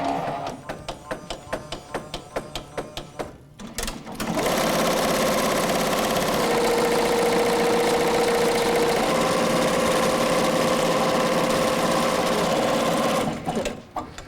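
An embroidery machine stitches a 3D puff embroidery design. A few sharp clicks and taps come first, then a loud, steady, rapid mechanical whir with a humming tone runs continuously for about ten seconds before stopping abruptly.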